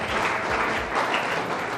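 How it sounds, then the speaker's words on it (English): Crowd applause fills a tech meetup evening at a bar, a dense, steady wash of many hands clapping at once, loud and continuous throughout. "just a round of applause for Miles."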